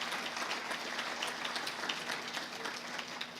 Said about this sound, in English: let's get a round of applause for Olivia Martin